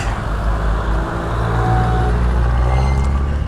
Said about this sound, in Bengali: এই ঢাল থেকে নামতে সবচেয়ে সুবিধা হচ্ছে হলো ইঞ্জিন ব্রেক